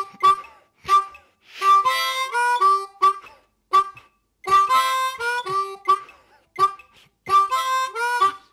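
A harmonica in cross-harp (second position) blues plays only the upbeats with no downbeats: short chordal bursts in a steady off-beat pattern, close and clear, with no talking.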